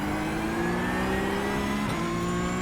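A Porsche Cup 992.1 race car engine at Tsukuba in the iRacing simulator holds a steady, loud mid-pitched drone with a slight upward pitch sweep, then a brief dip near the end as it shifts.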